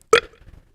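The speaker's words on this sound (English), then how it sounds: "That was a bad burp." A short, loud burp from a person, a single abrupt belch that trails off quickly into quiet.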